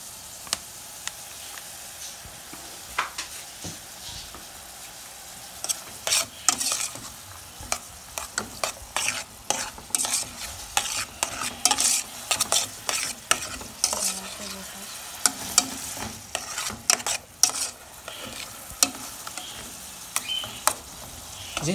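Rice for a Brazilian-style arroz refogado stirred and fried in oil in a pot, a steady close sizzle broken by frequent scraping and clattering stirs that grow busier partway through.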